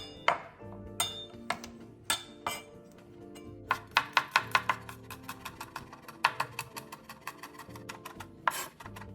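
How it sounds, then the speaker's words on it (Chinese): Garlic cloves minced with a knife on a board, a run of sharp, fairly quiet chopping clicks, sometimes in quick bursts and sometimes in single strikes, with short pauses between. "蒜瓣15克，剁碎备用。"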